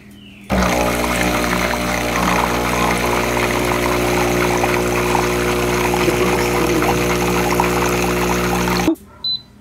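Três Corações Lov capsule coffee machine flushing water through, a loud steady pumping hum with liquid pouring for several seconds before cutting off abruptly, then a brief short burst.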